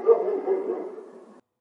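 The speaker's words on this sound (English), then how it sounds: "Here's the dog." A single dog gives one drawn-out bark lasting over a second, fairly close and clear, before it cuts off into silence.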